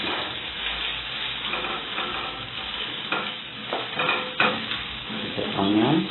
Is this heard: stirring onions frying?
yes